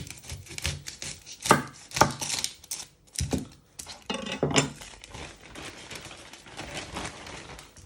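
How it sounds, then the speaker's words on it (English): A knife chopping the ends off an onion on a cutting board, with several sharp, close chops in an uneven rhythm, followed by softer scraping and handling sounds. "We first chop off the ends."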